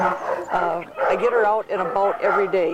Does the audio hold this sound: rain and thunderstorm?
no